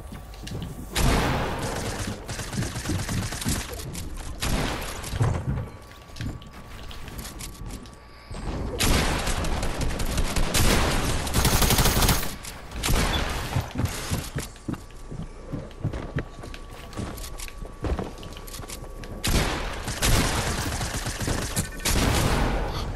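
SMG gunfire in a Fortnite zone war, rapid bursts of shots in several clusters across the stretch with loud dense volleys, short gaps, and a faint tone running underneath.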